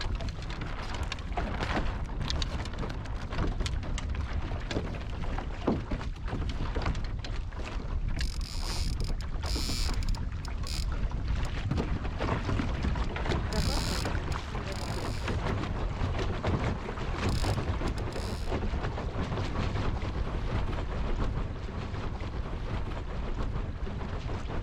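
Strong wind gusts roar steadily across the microphone on a river sailboat, a loud continuous rushing broken by brief hissing bursts, with no talking.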